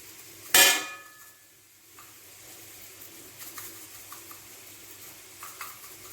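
Turmeric powder frying in oil in a pan for ginger-mango pickle. A loud burst of sizzle opens, then quiet soft stirring and faint scraping follow.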